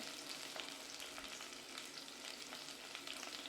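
Ginger, garlic and shallots sizzle steadily in a hot pan, a constant close, bright frying hiss with faint stirring scrapes and no voices.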